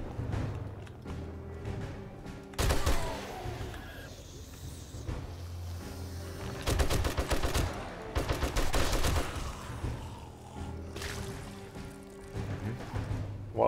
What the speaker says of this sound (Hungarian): valami rendőr zombi lövöldözik téged